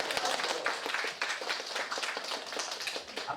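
A small group claps in a quick, uneven patter at a public speaking class presentation, close but fairly quiet, with individual hand strikes audible throughout the short burst.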